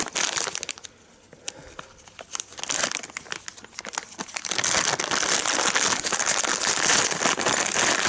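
A plastic bag holding plastic clamps and an Allen key for a Discone antenna crinkles and rustles up close as it is handled and torn open, with sharp crackles that grow denser and continuous toward the end, no talking.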